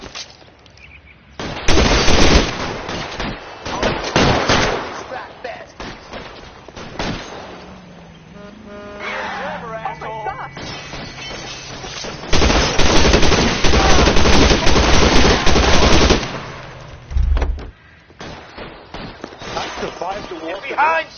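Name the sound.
covering gunfire in the video game L.A. Noire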